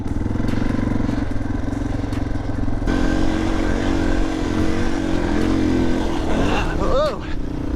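A Yamaha TTR230 dirt bike rides an enduro course through the high desert at El Mirage, its engine droning loud and close throughout with a rev climbing near the end.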